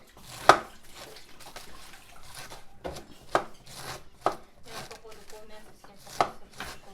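Cabbage being chopped for a salad on a kitchen cutting board, a few sharp knife strikes spaced irregularly over quiet kitchen background noise.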